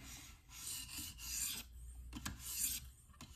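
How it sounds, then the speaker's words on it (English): A Cold Steel Air Lite knife edge is deburred on a KME sharpener: a run of dry, rasping strokes of stone across steel, close and fairly quiet, with brief pauses between passes. "so I am gonna deburr"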